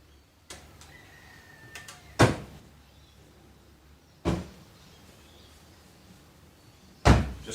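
Three solid thuds of a Mk2 Ford Escort RS2000's doors and boot being shut, spaced a couple of seconds apart, with a few lighter clicks and quiet outdoor ambience between.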